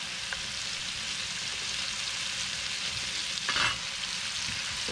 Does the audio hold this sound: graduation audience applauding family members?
no